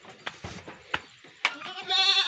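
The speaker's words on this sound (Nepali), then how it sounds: "फेरि निक्लिएको छ यहाँ बाख्रा।" Goats on a small hill farm with pig pens and roaming chickens bleat several times, loud and close, each cry separate and wavering, the last one long and drawn out, with no talk over them.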